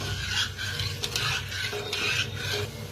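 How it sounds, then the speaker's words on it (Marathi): Sugar syrup for gulab jamun stirred in a pan as the sugar dissolves, a steady close scraping and swishing in repeated strokes, with no talking. "तर आता हलवून घेऊया। हलवून एक चांगलं शिजवून घेऊया। साखर हे विरघळून घेऊया पूर्ण।"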